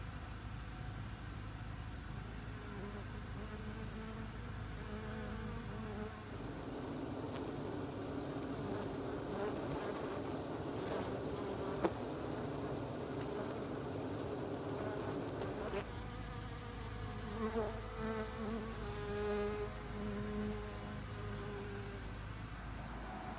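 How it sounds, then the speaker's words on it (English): Bumblebees and honeybees buzz continuously around a beehive outdoors during a partial solar eclipse, a dense steady hum of many insects near and far, with no talking. "So bumblebees and honeybees, really not acting any different as I can tell."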